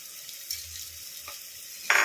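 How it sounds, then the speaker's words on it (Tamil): Spice masala with homemade chili powder and garam masala fries in a pan for vada curry, a soft sizzle under a few ladle scrapes and a sharper clink at the end, close and brief. "இப்போ அப்படியே லைட்டாக கரண்டி வச்சு கிண்டி விட்டுக்கலாம்"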